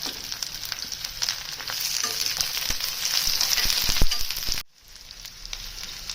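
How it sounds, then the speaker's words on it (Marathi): Spring onion and capsicum are stir-fried with paneer in a pan, giving a loud close sizzle and repeated spatula scrapes and clicks before the sound cuts off abruptly near the end. "त्यात टाकूया आपण थोडीशी कांद्याची पात आणि शिमला मिरची। हे चांगलं एकत्र करून परतून घेऊया।"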